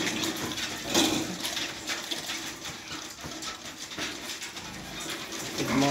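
Water splashing and sloshing continuously as piglets are bathed outdoors after a night of rain, steady and close with no talk.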